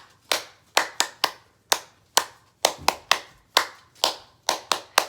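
Close, bright hand claps along to the children's song Bingo, struck in small rhythmic groups with short pauses between them, with no talking over them.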